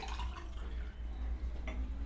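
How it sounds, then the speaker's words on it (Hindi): Coconut water is poured into a 250 ml glass, a short, soft liquid trickle over a low background hum, lasting about two seconds with no talking. "अगर मैं इसको 250 ml के गिलास में पलटता हूँ नारियल पानी को"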